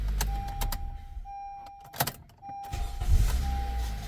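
A car engine idles steadily with a low rumble, interrupted by a few sharp clicks and knocks, and a faint high whine running underneath.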